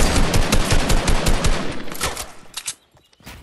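Rapid automatic gunfire from a video game arena match, dense bursts of shots for most of the clip before thinning to a few scattered shots and a brief pause near the end, no talk over it.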